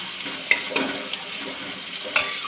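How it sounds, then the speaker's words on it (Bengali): Chopped onion frying in a pan for a dhaba-style egg masala, giving a steady soft sizzle broken by a few sharp clinks of a spoon stirring against the pan. "পেঁয়াজ কুচিটা ভালো করে একটু ভেজে নেব"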